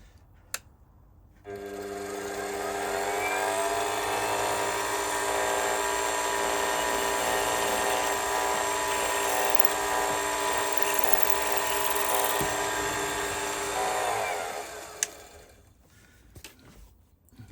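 A steady, high-pitched whine of a drill cutting brass tube on a lathe runs for about twelve seconds, then winds down, with a few small clicks around it.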